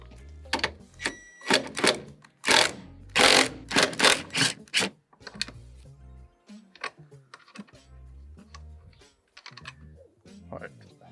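Ratchet undoing the three 13 mm top mount nuts on an R56 Mini Cooper during a coilover install, heard as close bursts of rapid mechanical clicking with short pauses and some light handling knocks.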